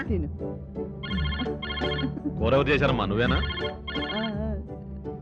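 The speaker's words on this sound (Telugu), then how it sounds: "ఫోన్ వచ్చింది చూడు" A telephone rings in repeated electronic trills while people talk over it nearby.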